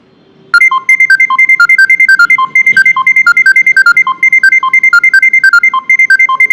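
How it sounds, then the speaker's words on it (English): A taxi booking app's driver notification ringtone plays loud and close: a bright electronic melody of rapid repeating beeps that loops without pause for about six seconds. "You can see how much loud notification it will be there."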